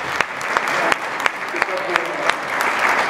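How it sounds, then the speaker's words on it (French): Audience applause at a tribute event honouring Cameroon, a loud room of clapping with several sharp, distinct hand claps standing out irregularly over the dense crowd patter. "Un peu d'applaudissements quand même."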